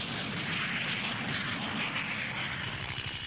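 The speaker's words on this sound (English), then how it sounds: "the Piaggio Douglas 808, a 10-seater executive craft, relies on twin rear-mounted Viper jets" A Piaggio Douglas 808 executive jet with twin rear-mounted Bristol Siddeley Viper engines produces a steady, broad jet roar at an air show, continuous and moderately distant with no breaks.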